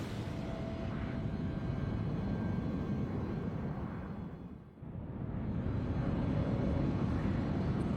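Sustained airliner engine roar from the American Airlines 965 crash reenactment, a steady loud drone that dips briefly midway before swelling back, with no voices.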